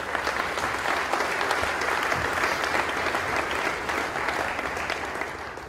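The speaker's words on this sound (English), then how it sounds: "That's worth applauding" An audience at a school president's reception applauds athletic teams' accomplishments, with sustained, dense clapping from many hands that holds steady throughout and eases slightly at the end.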